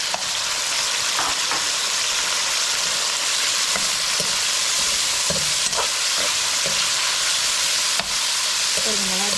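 Shrimp fry loudly in a pan with caramelized garlic, giving a dense, constant hiss and crackle close up, punctuated by a few scraping stirs and utensil taps, with no talking over it.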